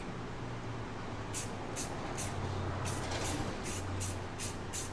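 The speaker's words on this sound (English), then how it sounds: "I'm gonna spray this" An airbrush sprays a gloss coat over a chameleon pigment powder sample in a steady hiss, with a series of short sharper bursts as the trigger is pulsed.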